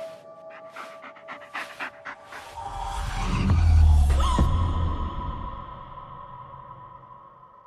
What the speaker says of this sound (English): Just take the damn dog